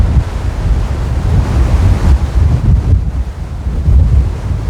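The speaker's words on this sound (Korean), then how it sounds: "아이고 파도 많네" Ocean waves on a sea day in the South Pacific, heard from a cruise ship deck with heavy wind buffeting the microphone and a continuous low rushing surge.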